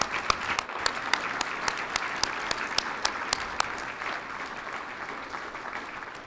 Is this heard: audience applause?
yes